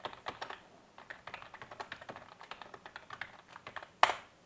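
Steady clatter of keystrokes on a computer keyboard as a chmod command is entered on a Mac running OS X, irregular quick taps close up with one louder final key press near the end.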